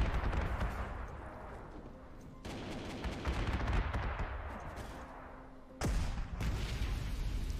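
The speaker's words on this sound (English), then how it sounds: "Can we stop using artillery to deal damage to my troops?" Artillery fire in the WWII strategy game Panzer Corps 2, set in a Spanish Civil War battle at Brunete, with dense rumbling explosions and sharp crackling blasts that surge loudly in waves.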